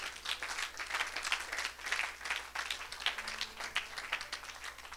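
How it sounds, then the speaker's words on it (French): A congregation at a church service claps and applauds for Jesus Christ, a dense steady wash of many hands sustained for several seconds, fairly near, with no talk over it. "Acclamez pour Jésus-Christ."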